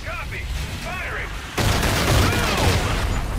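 Gunfire and heavy explosive bursts from the Call of Duty: Infinite Warfare video game, starting faint under talk and then erupting into a loud, continuous barrage for the second half.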